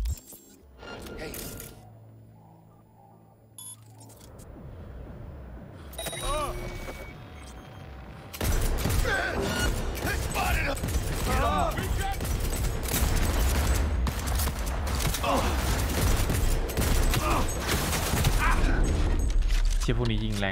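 Enemy gunfire in the video game Cyberpunk 2077 starts as sparse shots and builds into dense, continuous volleys of rapid fire, loud and sustained, with game dialogue and voices heard among the shooting.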